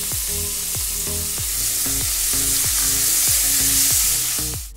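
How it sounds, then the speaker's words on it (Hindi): Two medium onions sizzling in a hot pan with a steady frying crackle, while a spoon scrapes and stirs in a regular rhythm, close and fairly loud. "इसके बाद हम इसके अंदर 2 मीडियम साइज के प्याज डाल देंगे।"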